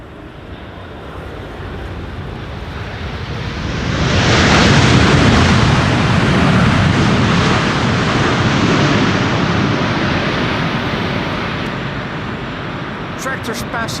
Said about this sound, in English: Let's hope this airplane will also give us a blast in the form of reversers spooling up.